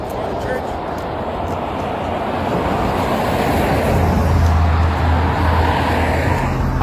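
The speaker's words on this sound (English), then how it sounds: "I'm sorry, I couldn't really hear you with the traffic." Loud, continuous road traffic beside a street, vehicles humming and rushing past nearby with a low engine drone building toward the end.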